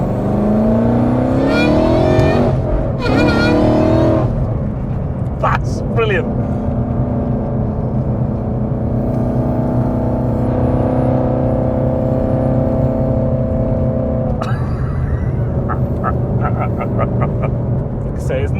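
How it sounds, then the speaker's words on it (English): A supercharged 862bhp Mustang GT revs and accelerates on a narrow road, its engine roar rising in bursts with a whining supercharger layered on top, while people talk inside the car between pulls. "I think a supercharged car is one of the best sounds there is."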